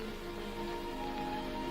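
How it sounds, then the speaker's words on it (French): Steady rain falls in a continuous soft hiss of drops on a surface, even and unbroken throughout, with a faint low hum beneath it and no voices. "Il pleut."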